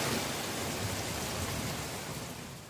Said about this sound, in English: there was heavy rain accompanied by strong winds in several areas of Shanghai, China.